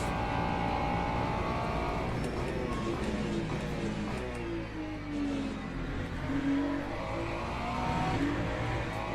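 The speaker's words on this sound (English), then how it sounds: "The Fiat sounds so awful." A Fiat race car in a racing video game drones steadily at a moderate level, its engine pitch sweeping up and down through gear changes during a lap, with a continuous mechanical whine throughout.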